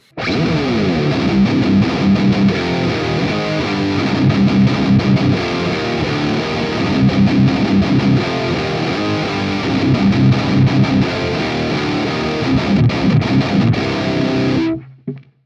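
Heavily distorted electric guitar plays chugging riffs through a Fractal high-gain amp model at stock settings, thick and buzzy, continuous for the whole stretch before cutting off.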